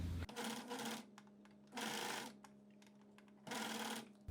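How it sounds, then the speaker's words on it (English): A Juki MO-50e overlock serger runs without fabric in bursts, a loud close whirring and rapid mechanical clatter starting and stopping three times with short pauses between. "just sew without the fabric just to see that the loops are forming"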